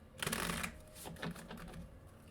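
Tarot cards are shuffled close up in a quick riffling burst followed by softer, scattered slides and taps of the deck.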